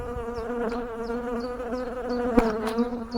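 Honeybees at an open hive during an inspection, with bees being blown off a brood frame: a steady, close, layered buzzing drone throughout, with a couple of brief louder bursts near the end.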